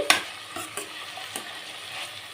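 Turmeric, onions and green chillies hiss in hot oil for a tempering for a cucumber and potato curry, with a steady close sizzle broken by a few sharp stirring scrapes.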